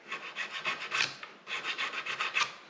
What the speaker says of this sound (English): So let's do some filing here.